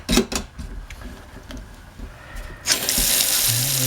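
Water gushes from a newly installed Moen kitchen faucet into the sink, starting abruptly after a few light clicks and handling noises and then running steadily and loudly, close by.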